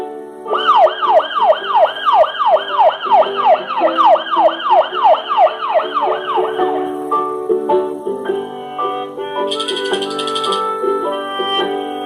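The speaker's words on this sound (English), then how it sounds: "Police car." A police car siren wails loud and near in a fast, regular rising-and-falling cycle for about seven seconds, then gives way to a light musical jingle.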